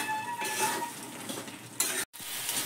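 A spoon scrapes and stirs grated carrot halwa cooking down in milk in a pan, a steady soft scraping and sizzle with a brief clink near the end.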